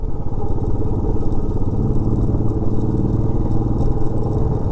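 Motorcycle riding a rough, unfinished mountain road between Diskit and Pangong in Ladakh, its engine droning steadily and close throughout with rattling clatter from the bumpy surface.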